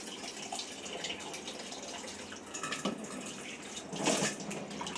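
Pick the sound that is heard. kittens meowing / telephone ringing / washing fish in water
washing fish in water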